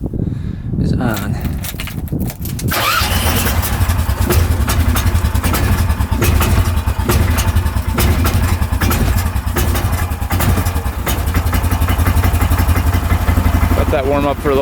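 An Argo 6x6 off-road vehicle engine cranks after a few quiet seconds, catches and settles into a loud, steady, close idle with a rapid even beat, with brief speech at the very end.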